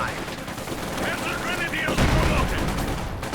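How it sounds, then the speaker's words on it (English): Rapid overlapping gunfire in Company of Heroes 2, including a semi-automatic PTRS anti-tank rifle: dense, continuous crackling shots with a heavier thump near the middle, and faint voices underneath. "Anti-tank rifle there popped down with PTRS, the semi-automatic variant of the anti-tank rifle"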